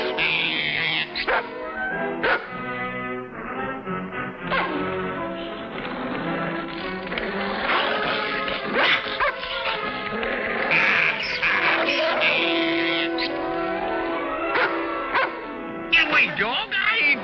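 A dog barks and yips repeatedly, mixed with whimpers, while a person talks over it nearby.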